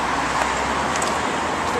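Traffic on a Philadelphia boulevard rumbles past a bus stop, a steady broadband roar of passing vehicles at moderate distance, with people's voices heard over it.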